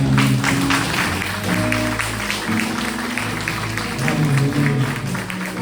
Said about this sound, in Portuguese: Dê um forte aplauso ao Senhor por Deus